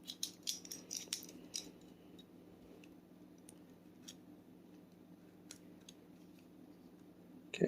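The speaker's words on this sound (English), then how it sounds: "So just going to get a X-Acto knife. Just try to gently peel this tape" Small X-Acto knife scraping and cutting tape on the faceplate of a vintage Pioneer SX-10 stereo receiver, a quick flurry of crisp snips and ticks at first, then sparse faint clicks over a quiet background.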